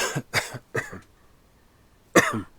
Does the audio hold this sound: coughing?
yes